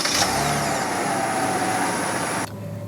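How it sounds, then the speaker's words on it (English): A 2019 Chevy Blazer engine fires up by remote start, turning over into a loud, close, steady running hum that drops slightly in level near the end. "Now I'm gonna activate the remote start"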